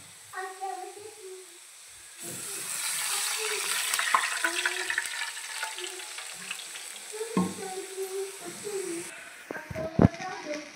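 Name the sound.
water poured into pan with roasted cumin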